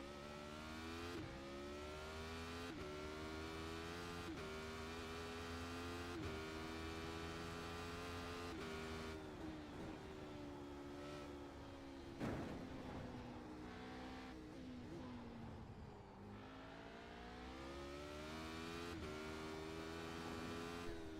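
A race car engine drones steadily on a track in iRacing. The loud, continuous, harmonic whine rises through the gears and drops sharply at each shift, with a brief rough burst near the middle.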